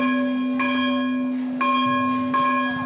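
A large shrine bell at Dewa Sharif rings at noon, struck about three times in slow succession, each stroke bright and sustained with a long humming decay that carries through, with no voices present.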